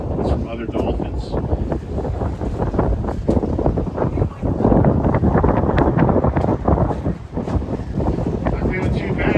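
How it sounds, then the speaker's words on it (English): Strong wind buffets the microphone on a boat cruise near Pelican Island off Sebastian, Florida, a loud, continuous gusty roar with rushing water beneath it. "Not feeling too bad for a rough windy day."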